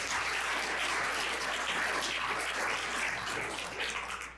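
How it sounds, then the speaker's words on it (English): An audience at a summit gives a dense, sustained round of applause, a steady wash of many hands clapping at moderate level throughout, with no talk over it. "Big round of applause for that"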